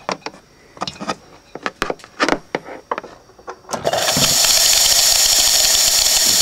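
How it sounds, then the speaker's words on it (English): A vintage refrigeration compressor that spits oil: first a string of separate close clicks and rubbing knocks, then it starts up into a loud, steady broadband hiss and sputter that holds to the end. "You can hear that a lot of sputtering and producing somewhat of a mist as well."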